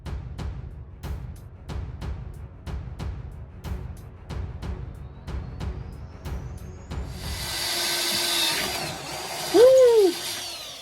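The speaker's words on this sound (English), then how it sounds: "All right, they're all drilled." Power drill boring holes for new PRP seat mounts in a Jeep Wrangler JKU, heard as a steady run of repeated short bursts, each with a click, followed by a louder hissing whine and a brief high squeal near the end.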